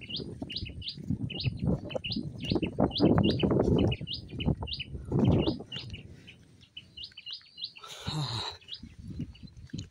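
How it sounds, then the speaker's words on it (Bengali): Repeated short, high chirping bird calls come in quick bursts beside the Padma River as the tide comes in, mixed with rustling, footsteps and outdoor background noise. "কি পাখি এটা?"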